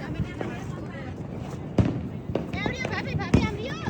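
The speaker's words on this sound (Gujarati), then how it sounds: "કેટલા ફટાકડા પડ્યા" Firecrackers bursting outdoors during a festival, a few sharp, loud bangs scattered over about four seconds while several people talk throughout.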